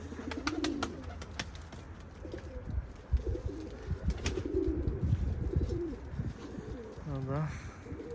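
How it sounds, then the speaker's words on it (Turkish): A domestic pigeon coos softly several times, close by during a pigeon flight session, with rustling, handling noises and faint clicks around it and a low murmur of talk. "Elimde de güvercin var."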